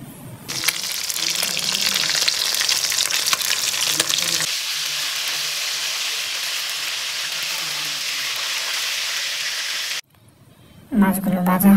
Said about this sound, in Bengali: শুরুতে আমরা মাছগুলোকে ভালো করে ভেজে নেব।